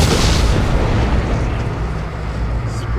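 Heavy explosions and rumbling booms in the horror game Call of Cthulhu: Dark Corners of the Earth, a loud, continuous dense roar filling the whole moment with no talk.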